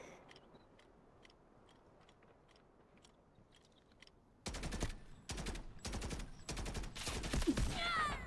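Gunfire in the shooter Delta Force: after a quiet stretch with a few distant pops, loud close bursts of automatic fire begin at about 4.5 seconds and repeat in rapid volleys.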